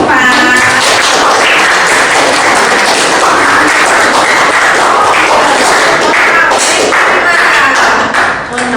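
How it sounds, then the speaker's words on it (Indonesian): Loud, dense clapping from a classroom audience applauding a team after its group presentation during a teacher performance exam, close and continuous with sharp individual claps and a few voices mixed in. "Baik, tepuk tangan untuk tim 4."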